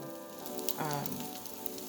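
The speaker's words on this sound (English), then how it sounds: "When you start to hear a sizzle, you'll start to hear the sizzle" Soft, faint sizzling crackle of naan cooking in a hot skillet, steady throughout, with a brief tonal voice-like sound midway and a faint hum underneath.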